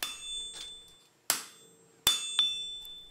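Sharp metallic strikes of a hammer on 18 gauge mild steel resting on an anvil, two bright ringing clangs about a second apart among softer taps, close and clear with short ringing decays.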